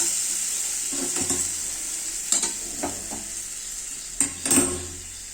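Eggs added to a hot pan fry with a steady bright sizzle while a utensil stirs and scrapes in a few distinct bursts, close and clear with no talking.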